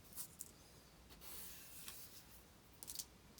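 Scissors snip through coloured card to cut out flower pieces for a handmade card, giving a few faint, crisp cuts near the start and end, with quiet rustling between.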